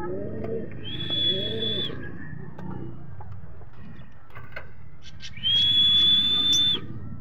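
Birds, likely pigeons or doves, call outdoors with soft cooing and two clear sustained whistles, heard close against a steady background hum.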